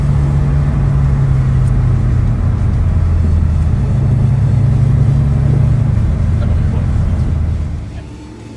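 Muscle cars idle and rumble at close range on the first day of the 2022 Aussie Muscle Car Run, including an HDT VK 355 stroker, a steady low engine drone with faint voices before easing off at the end.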